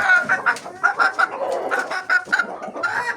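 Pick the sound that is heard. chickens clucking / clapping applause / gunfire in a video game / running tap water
chickens clucking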